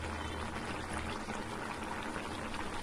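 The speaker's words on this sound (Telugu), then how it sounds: "చూడండి మునక్కాయ మామిడికాయ కూర ఎంత బాగా ఉడుకుతుందో" Drumstick and raw mango curry boils steadily in a pot, a dense continuous bubbling and simmering that stays close and even throughout, with no voices.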